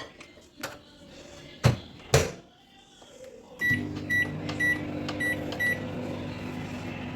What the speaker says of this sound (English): Now microwave for 2 minutes.